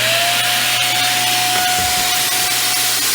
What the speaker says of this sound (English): So what I have is this Shark vacuum cleaner with this adapter on the end